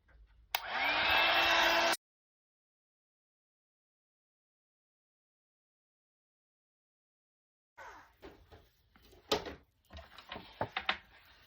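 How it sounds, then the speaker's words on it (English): A heat gun on its second setting blasts hot air in a loud, steady whoosh with a humming tone for over a second, then cuts off to silence, followed by handling clatter and taps on a card-making desk. "And then with our heat gun again on number 2,"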